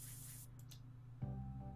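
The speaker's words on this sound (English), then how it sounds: "spray tan for you, I guess" A spray tan being applied in the video game Sally's Salon: a soft, brief hiss of spray lasting about half a second, followed by a steady tonal game music bed and faint background sound.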